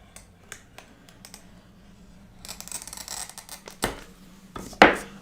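A glass cutter with a bevel head scores stained glass, giving faint crisp clicks and a brief gritty scratching run, then a sharper snap near the end, close up with no talk.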